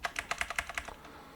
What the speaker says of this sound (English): Use the right arrow on the keyboard.